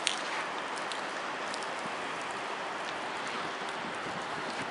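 Mild typhoon rain falling during Typhoon Jelawat in Kobe, Japan, a steady soft hiss of drops with faint scattered patters and no voices.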